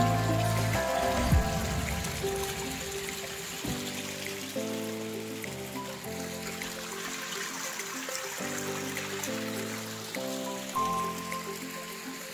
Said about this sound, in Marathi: तुमको ऐसा धबधबा दिखाता है ना